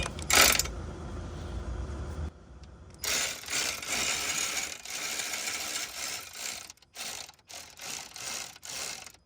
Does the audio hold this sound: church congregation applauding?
no